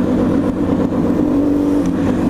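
A car with a loud rear exhaust drones steadily on a São Paulo expressway, a deep, rumbling engine note close and constant.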